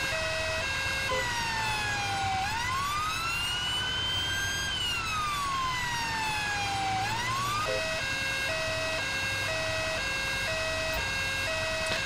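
A video game ambulance siren wails continuously, rising and falling in long sweeps before switching to a faster alternating tone, loud and steady without any talking.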